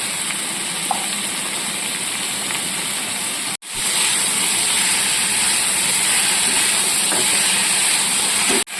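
Spices sizzle and fry steadily in a pan while banana flower curry is cooked, a close, continuous hiss that breaks off briefly partway through and then resumes just as loud.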